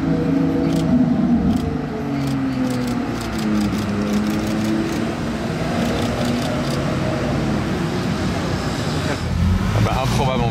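A Bugatti Chiron rolls slowly through the streets of Monaco, its low engine rumble steady and close beneath surrounding street noise and nearby voices.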